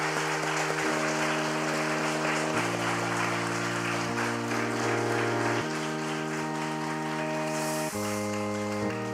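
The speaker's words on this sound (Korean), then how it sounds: "우리 크게 한번 박수로 환영하겠습니다" Applause welcomes new church members at a graduation and baptism ceremony, a continuous bed of clapping heard beneath loud sustained organ or keyboard music with changing chords.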